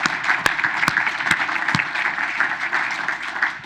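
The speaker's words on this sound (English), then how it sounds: "So if we could all just give a round of applause to Dave and Dan for what they've built with Trade Ideas," Audience applause at a trading summit, with steady dense clapping throughout and a few sharper individual claps standing out near the front.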